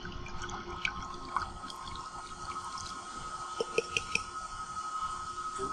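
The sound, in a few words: pulp slurry poured into a vacuum filter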